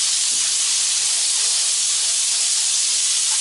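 A fried onion burger cooking on a flat grill, its onions searing underneath, gives a steady, loud, even hiss of sizzling throughout with no pauses or voices.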